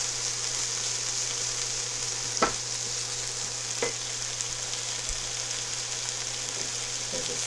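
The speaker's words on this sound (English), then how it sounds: "So these are sauteing nicely" Black bean burger ingredients saute in a pan with a steady, even sizzle throughout, broken by a couple of light utensil taps.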